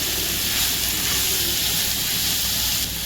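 Fish cutlet mixture with carom seeds and garlic frying in a pan on medium flame, a loud, steady sizzle and hiss that holds unbroken throughout.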